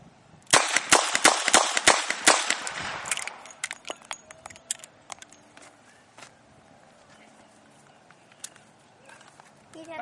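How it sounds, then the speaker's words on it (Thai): Revolver fired one-handed at a target: a rapid run of sharp, loud shots in the opening seconds, then quieter metallic clicks and rattles as the cylinder is opened and reloaded with a speedloader. "ชักปืนด้วยมือถนัดยิงไปที่เป้ายิงเสร็จแล้วก็เปิดโม ่แล้วก็บรรจุกระสุนชุดต่อไปด้วยมือเพียงข้างเดียว"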